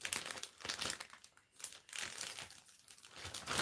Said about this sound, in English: remember to put your clay in a plastic bag or something.